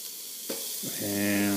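Ground beef patties, 85/15 with olive oil and seasoning, hit an air fryer grill grate and start to sizzle, a sudden crackle that builds into a steady frying hiss with a faint appliance hum.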